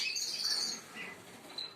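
Canaries kept in a breeding room chirp in quick, high, thin tweets and short trills, a few overlapping calls over less than two seconds, fairly faint and close, with no talking.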